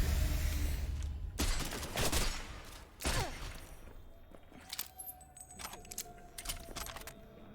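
Gunfire in Cyberpunk 2077, several loud sharp shots and short bursts crackling close up in the first few seconds, then sparser, fainter pops and clatters trailing off.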